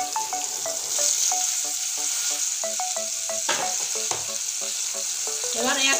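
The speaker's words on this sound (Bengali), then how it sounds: "এবার একসঙ্গে ভেজে নেব সুন্দর করে" Onion, capsicum and tomato frying together in a pan, a steady close sizzle with intermittent spoon scrapes and clinks against the pan, with no voices.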